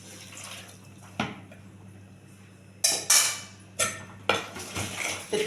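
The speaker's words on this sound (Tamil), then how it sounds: "தண்ணி கொஞ்சம் ஊற்றிக்கோங்க." Water poured into a cooking pan while making a Nellai-style brinjal kadayal, heard as splashy pouring bursts and clinks of metal utensils over a low steady hum, moderately loud and close.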